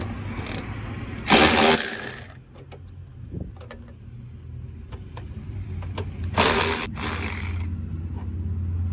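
A ratchet on an extension loosens radiator bolts on a Ford F-250 to F-550 Super Duty truck: two loud bursts of rapid ratcheting, with scattered sharp clicks and clanks between them, close by.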